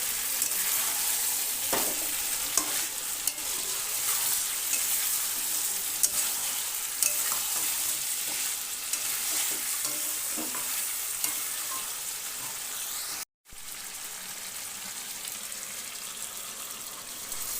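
Chicken fries in a pan with a steady sizzle while a utensil stirs and scrapes at intervals, continuous and moderately close, with a brief cut to silence near the end.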